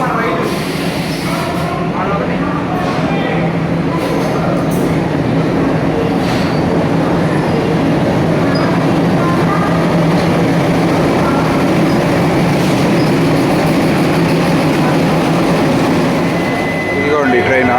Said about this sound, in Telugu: ట్రైన్ ఆఖరికి వచ్చింది